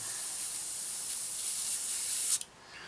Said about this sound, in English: just go spray a coat of this over the top